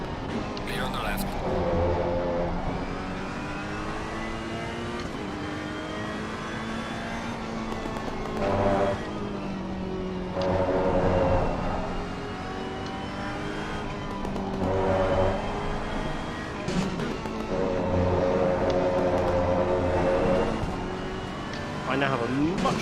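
Honda NSX race car engine in a sim racing game at Suzuka, a loud droning engine note rising and falling through gear changes and shifts, with someone talking over it much of the time.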